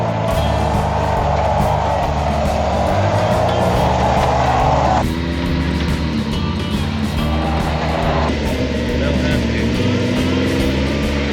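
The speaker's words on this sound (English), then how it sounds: "getting much more comfortable driving the new Maverick" A new Ford Maverick pickup truck driving near Buckhorn Lakes, a steady loud engine and road drone throughout, with a shift in tone partway through and no voices heard.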